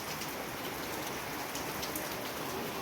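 Rain falling steadily on surfaces outdoors during a heavy downpour, a dense, even hiss with no pauses and no voices.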